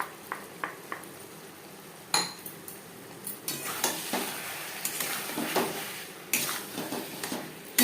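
A spoon stirs and scrapes tomato paste and garlic through chicken curry in a pan on a high to medium flame, with irregular clinks and scrapes over a soft, steady sizzle.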